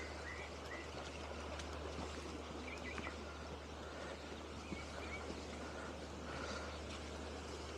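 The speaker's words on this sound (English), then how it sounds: "Now the brook is running pretty fast, pretty high today." A fast, high-running brook beside a leaf-covered woodland footpath whose edge it has partly washed away, giving a steady, broadband rush of flowing water with faint bird chirps now and then.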